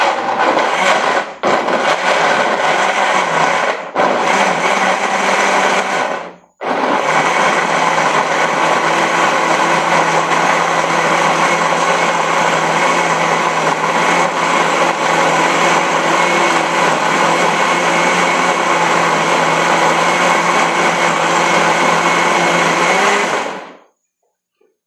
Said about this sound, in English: you wouldn't be able to hear me because of the blender